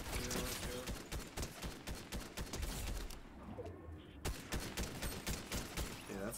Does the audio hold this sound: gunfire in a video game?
yes